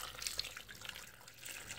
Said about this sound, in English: I'm pouring a glass of water